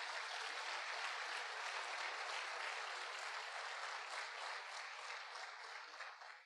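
A church congregation at a conference in Blumenau applauds in sustained, dense clapping that fills the room evenly, somewhat distant and fading slightly toward the end, with no speech over it.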